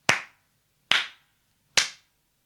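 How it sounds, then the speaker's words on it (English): Three sharp hand claps ring out alone at an even, unhurried pace, each crisp and close with a quick decay into silence. "the eldest princess clapped her hands 3 times"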